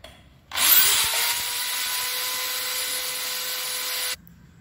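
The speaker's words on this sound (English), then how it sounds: "Inside you have to make an indent and drill 2 holes." A power drill bores into a steel bolt, spinning up abruptly into a steady, loud, even whine that holds for about three and a half seconds before cutting off sharply, with no talking.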